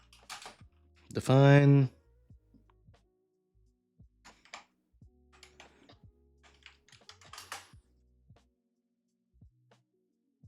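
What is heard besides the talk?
typing on a computer keyboard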